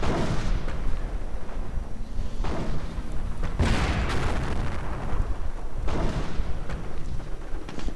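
Tank cannon fire in a World War II strategy game, a Panther tank firing repeatedly amid loud continuous battle noise, with several heavy booming shots spaced a few seconds apart.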